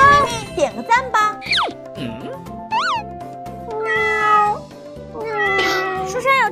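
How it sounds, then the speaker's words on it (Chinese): A kitten stuck up in a tree mews repeatedly in high, rising and falling cries, close and clear, mixed with children's voices calling and chattering throughout. "树上有只小猫，要救援"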